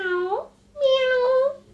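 A person's voice imitates a cat's meow twice, each call a drawn-out, wavering whine separated by a short pause, up close and fairly loud.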